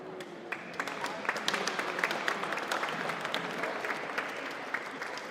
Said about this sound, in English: A great round of applause for her, although she's not here.